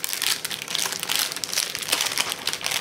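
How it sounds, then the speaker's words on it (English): Plastic packaging of a scrapbooking charm and ribbon kit crinkles loudly and continuously as it is pulled open by hand, close up with dense crackling bursts. "Sorry for the crinkling."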